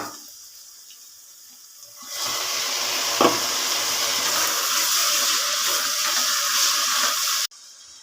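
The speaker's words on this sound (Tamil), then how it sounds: "நல்லா பொன்னிறமாக வதங்க வரைக்கும் நம்ம நல்லா பொன்னிறமாக வதங்கட்டும்" Onions sautéing in hot oil in a pan while egg biryani is cooked. After a quiet start, a steady close sizzling hiss begins and holds for about five seconds, then stops abruptly.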